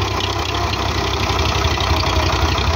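A tractor engine idles near a trolley being loaded with soil, producing a steady, loud low chugging throb with slight knocking pulses throughout and no talk.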